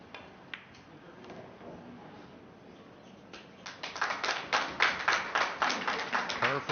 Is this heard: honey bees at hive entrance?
no